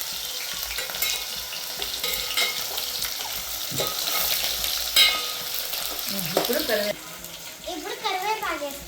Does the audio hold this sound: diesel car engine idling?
no